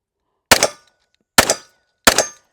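A Smith & Wesson M&P M2.0 pistol fires three sharp shots at steel targets. The loud, close reports are spaced about a second apart, each with a brief ringing tail.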